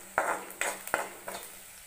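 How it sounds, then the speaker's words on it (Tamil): Garlic and onion being stirred in a pan for South Indian garlic rice, with four distinct scraping strokes of a utensil against the metal, close and clear over a faint sizzle. "அது வரைக்கும் நல்லா மிக்ஸ் பண்ணி விட்டுட்டே இருங்க."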